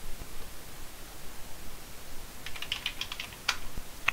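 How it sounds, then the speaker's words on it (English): Computer keyboard typing a command into a command prompt, a short quick burst of light key clicks late in the stretch over a faint steady hiss. "So we'll open a command prompt and type in ANT"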